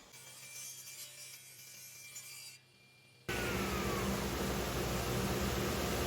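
A wooden coaster blank pushed across a saw, a soft rubbing cut at first, then a brief lull before a loud, steady machine roar takes over and holds to the end.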